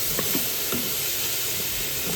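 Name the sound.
red onion sweating and sizzling in pot roast pan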